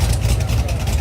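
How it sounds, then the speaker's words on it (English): A Corvette ZR1 idles at a Nashville Cars and Coffee gathering, producing a brief, loud, deep rumble with a fast throbbing pulse close to the listener. "So we're walking up to a ZR1 right now, and it sounds good."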